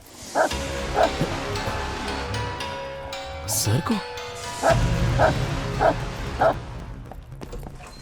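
A tied-up dog barks in a series of sharp, repeated barks with short gaps and some whimpering, close and loud, mixed with a man's speech.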